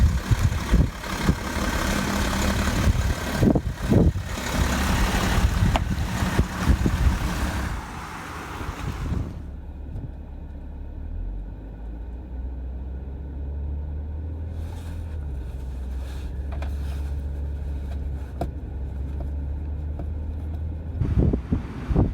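A BMW engine runs while driving, loud and busy at first, then settling after about nine seconds into a steady low hum with faint higher tones.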